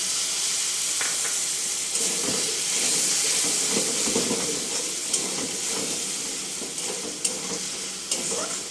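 Spiced paste water poured into a hot pan of oil, with turmeric, hisses and sizzles in a steady, loud, broadband spray, with faint stirring clicks and small pops near the end and no voices.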